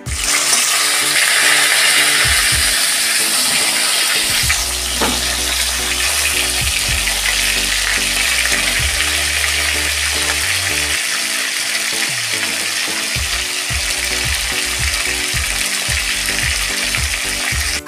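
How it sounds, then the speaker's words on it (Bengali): Catla fish pieces fry in hot oil for a home-style doi katla curry, a loud, continuous crackling sizzle with occasional spatters and pan knocks throughout. "দুটো মাছ আমার ভাজা হয়ে গেছে ওই তেলে, আর দুটো মাছ দিয়ে দিলাম।"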